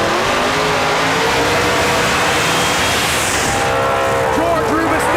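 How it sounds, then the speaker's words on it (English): Drag-racing VW Beetle does a smoky burnout at a dragstrip, a loud continuous roaring engine with tire squeal under a crowd and an announcer's talk. "George Rubistello lays down a hot, smoky burnout in his first call out."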